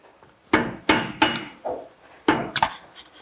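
A screwdriver pries and knocks at a rusted wheel spacer on a Ford Econoline, giving several sharp, close metallic impacts at uneven intervals.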